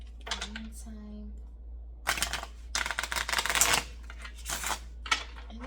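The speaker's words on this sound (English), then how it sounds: "I'm gonna shuffle that up in the meantime." An oracle card deck is shuffled by hand in riffling, papery bursts between pauses, close and crisp, after a brief stretch of talking at the start.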